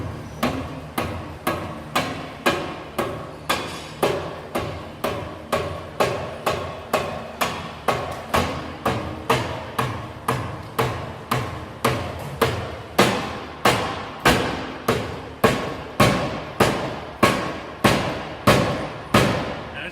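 A hammer drives a tapered shaft down through a metal bushing, hinge and bracket on a mulch attachment, delivering dozens of sharp evenly spaced metallic blows at a steady rhythm, loud and close, with no talk.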